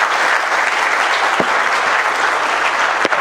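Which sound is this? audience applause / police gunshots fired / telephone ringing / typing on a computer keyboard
audience applause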